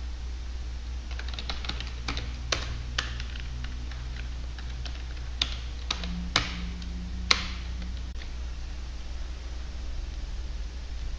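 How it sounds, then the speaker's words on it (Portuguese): Quiet keyboard typing in a text editor: scattered light key clicks, some brief runs and isolated taps, over a steady low hum of room or computer noise, with no speech. "então você pode simplesmente digitar"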